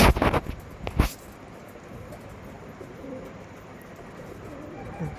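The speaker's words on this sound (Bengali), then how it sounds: "এটা হচ্ছে 2 নম্বর পেয়ার, অরিজিনাল আন্ধ্রা পায়রা" Andhra pigeons in a loft give soft, low cooing over a quiet background, after a couple of louder knocks at the start.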